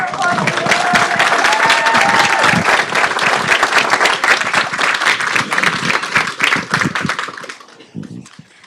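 Loud, dense audience applause at a Forsyth County Schools Board of Education meeting, sustained clapping from a full room for several seconds before tapering off to quiet at the end.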